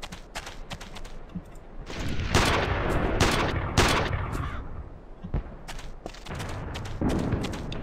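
Gunfire in the PC war shooter Iron Storm, with sharp repeated shots and bursts of automatic fire, loud and close, spread unevenly across several seconds over a rumbling background.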